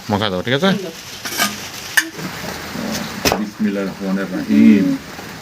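A fish curry with vegetables sizzles in a pan while it is stirred, with scraping and clinking of the utensil, and someone talks over the cooking sounds.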